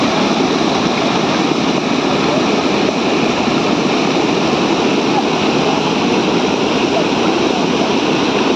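Water roars steadily down a waterfall in the Kolli Hills, a loud, continuous broadband rush close by with no breaks.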